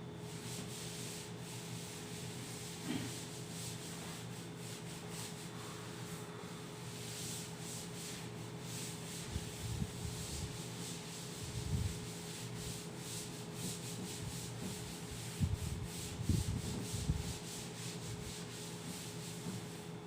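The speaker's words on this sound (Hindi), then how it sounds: "चलिए इसको रब कर देते हैं यहां" Steady scrubbing of an eraser rubbing writing off a classroom board during a maths lesson, continuous rhythmic rubbing strokes that run for about twenty seconds at moderate, close level with no talk.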